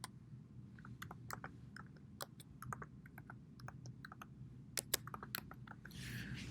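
Quiet, close computer keyboard typing, irregular light key clicks spread across several seconds over a low steady room hum.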